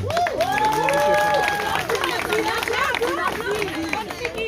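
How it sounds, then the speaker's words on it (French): Crowd applause for a mother at an event, a loud burst of clapping and cheering with excited voices and chatter throughout. "s'il vous plaît, un gros applaudissement pour la maman d'Ariana."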